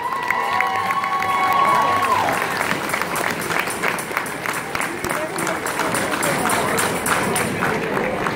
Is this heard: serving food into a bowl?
no